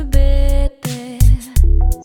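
An AI singing synthesizer voice sings Japanese lyrics in a few short, sustained notes with clean pitch, loud and close, separated by brief gaps.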